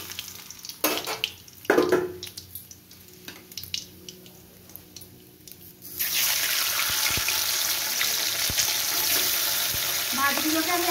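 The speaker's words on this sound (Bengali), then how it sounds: "এইভাবে আমি বাকি মাছগুলো ভেজে নেব।" More pabda fish are fried in hot oil. A few clattering knocks and handling noises come first, then a loud, continuous sizzle fills the rest close up, with a faint squeaky tone near the end.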